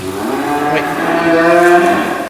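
Cows on a French livestock farm moo loudly and close, one long sustained low bellow lasting nearly the whole clip before cutting off abruptly.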